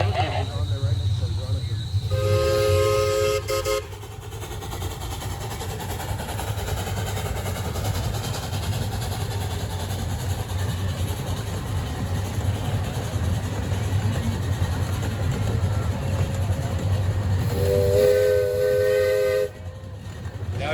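A train rumbles along steadily close by, its steam whistle sounding in two sets of harmonic blasts, near the start and again near the end.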